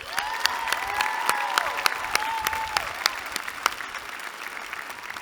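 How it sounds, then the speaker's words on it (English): Audience applause at an undergraduate business school commencement ceremony, a broad crowd clapping steadily with sharp individual claps standing out and faint cheering mixed in. "Let's give them a round of applause"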